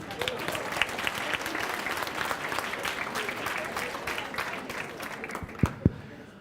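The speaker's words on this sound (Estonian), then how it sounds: "Teeme talle veel toetuse aplausi." A management conference audience applauds in steady, continuous clapping with faint crowd murmur, tapering near the end where two sharp thumps stand out.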